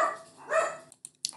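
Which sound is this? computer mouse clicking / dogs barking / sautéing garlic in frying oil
dogs barking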